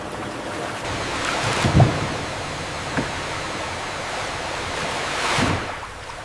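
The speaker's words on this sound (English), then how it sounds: "The gentle hydraulic tipper begins the journey, carefully releasing fresh watermelons into purified water for cleaning." A hydraulic tipper in a watermelon factory releases fresh watermelons into purified wash water, giving a steady rushing of water broken by two louder splashing surges.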